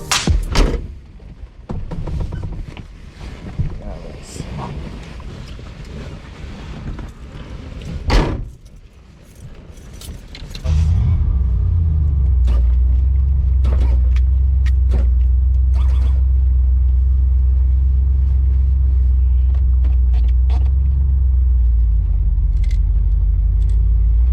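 A 1987 Chevrolet Monte Carlo is heard first with car doors thudding shut and some shuffling, then its engine takes over as a loud, steady, deep rumble that continues while driving, with no talking.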